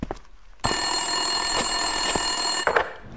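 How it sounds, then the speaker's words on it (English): A telephone rings in the video game Max Payne 2, a continuous electronic bell trill starting abruptly and holding steady at moderate loudness, with faint footsteps or thumps around it. "Winterson's phone was ringing."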